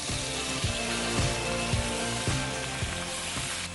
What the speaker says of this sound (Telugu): నూనె వేసుకొని ఇందులో గోంగూర ఆకు ఫ్రై చేసుకుందాం.